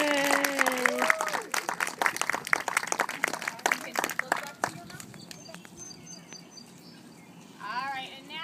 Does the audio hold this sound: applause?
yes